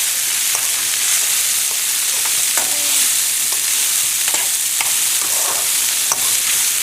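Cooked carrots and green beans tossed with a spoon in a pan of tempering, a steady sizzle with scattered scraping and clinking strokes, close and fairly loud, with no talking.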